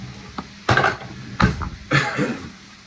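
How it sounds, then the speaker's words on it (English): A utensil stirs deer meat browning in a pan for tacos, giving three loud, close scraping clatters against the pan with a faint sizzle between them. "keep stirring this meat over here, browning it up real good"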